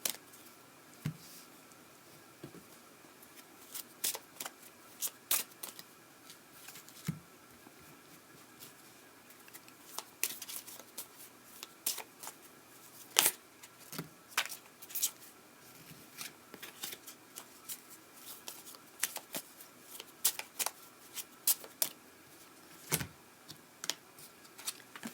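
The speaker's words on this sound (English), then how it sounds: "I'll go ahead and pull 3 cards for the month of September." Tarot or oracle cards being shuffled and handled, with sparse, crisp clicks and soft slaps scattered irregularly across a quiet room.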